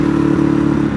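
A Ducati Hypermotard 821 V-twin motorcycle engine drones loud and steady while riding, a deep throbbing pulse with constant wind rush and no voices.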